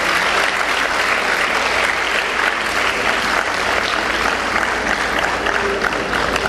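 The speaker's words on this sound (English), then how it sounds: "I request you to give a round of applause to all the teachers present here." At a dental sciences college graduation ceremony, the audience gives the teachers a loud, sustained round of applause, with dense, even clapping from many hands filling the whole stretch.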